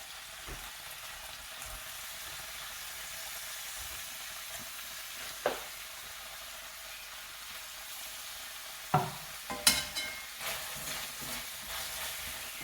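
Tomato and coconut chutney sautéing in a pan, a steady soft sizzle with a few sharper scrapes and clinks of a spoon stirring toward the end, no talking.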